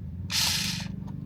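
Remote control drifting toy car with its small motor and gears whirring in one short burst, a close high buzzing whir lasting about half a second.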